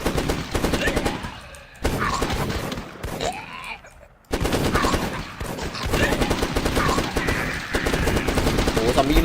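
Rapid gunfire from the zombie shooter game The Last Stand 2, dense bursts of shots running almost continuously under excited shouting, with a brief lull midway before the firing resumes loud and close.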